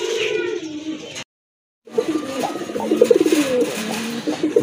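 Pigeons at a pigeon farm coo in loud, close, wavering calls, cut by a short stretch of silence before the rolling, overlapping cooing resumes and builds.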